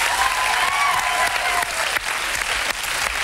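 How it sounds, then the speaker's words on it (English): Dense, loud studio audience applause on a 1990 TV dating show, a continuous wash of clapping that carries on without a break. "You will get your passion pins and another nice round of applause."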